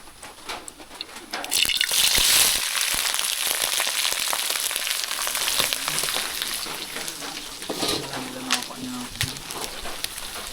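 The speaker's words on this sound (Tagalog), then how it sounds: "pipirituin lang muna natin siya sa asin tapos magic sarap" Clams frying in reused cooking oil seasoned with salt, a bright crackling sizzle that swells early and then stays steady, with people talking over it near the end.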